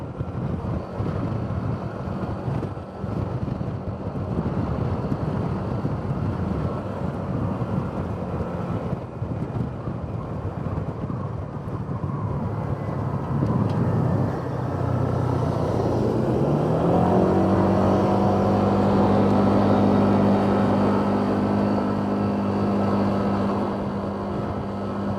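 A Honda PCX150 scooter cruises on the highway, a continuous roar of wind buffeting mixed with road and engine noise, with the engine note rising and steadying in pitch partway through; no speech.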